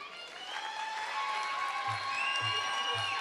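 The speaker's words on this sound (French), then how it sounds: "Applaudissements" Audience applause fills a hall at a national Muay Thai championship in Vacoas, a steady wash of clapping and crowd noise at the opening of a women's bout, with a low rhythmic thumping repeating underneath toward the end.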